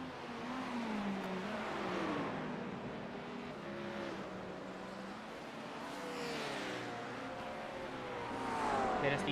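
A McLaren race car in a sim racing endurance race at Watkins Glen drones steadily, its engine note climbing and dropping through gear changes at moderate volume, with other cars faintly audible behind it.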